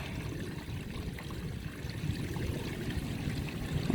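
Gray water draining from an RV holding tank through a hose, a steady low rushing and gurgling flow that swells slightly toward the end.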